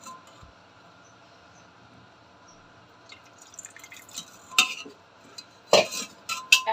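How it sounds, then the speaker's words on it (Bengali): A little water goes onto meat mixed with oil, cardamom and cinnamon in a pot, heard after a quiet start as a few short, close splashes and trickles. "অল্প পানি দিয়ে দিচ্ছি"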